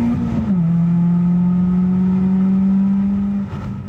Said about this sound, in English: Here's the sound with an exhaust.